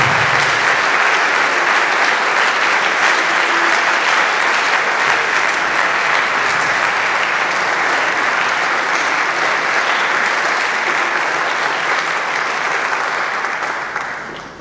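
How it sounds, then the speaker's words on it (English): A concert audience claps for a clinician and a high school wind symphony at a pre-UIL band festival, a dense, sustained wall of applause holding steady for the whole stretch before tapering off at the very end. "So if you can give us a round of applause for Mr. Junkin and the Flower Mound High School Wind Symphony."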